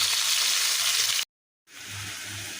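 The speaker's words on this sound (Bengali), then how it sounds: "তো সস দিয়ে রুই মাছ রান্না করবো তাই যে মাছগুলোকে প্রথমে ফ্রাই করে নিচ্ছি" Rohu fish pieces frying in hot oil, a steady close sizzle that cuts out briefly and then returns slightly softer, no voices.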